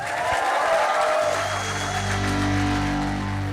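Audience cheering and applauding for guitarist Brian May at a BIMM event, a loud sustained crowd roar and clapping throughout, with a low hum settling in underneath.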